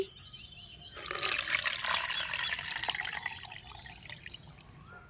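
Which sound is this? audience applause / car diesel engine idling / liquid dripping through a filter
liquid dripping through a filter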